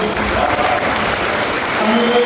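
Church congregation clapping at a service in St. Andrew's Church, Uttan, Mumbai, a steady dense wash of many hands lasting a couple of seconds, with voices faintly mixed underneath.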